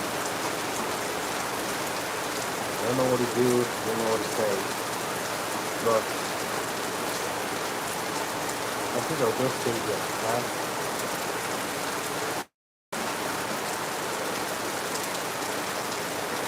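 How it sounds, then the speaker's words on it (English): Steady, dense rain pours down continuously in Lagos, with a person speaking briefly over the hiss partway through. "So it's raining here, guys."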